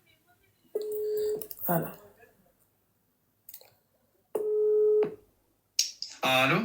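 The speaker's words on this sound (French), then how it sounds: "je vais l'appeler tout de suite là" A phone is dialed on a speakerphone, giving held electronic tones with clicks between them and a burst of ringing near the end, while someone speaks briefly in between.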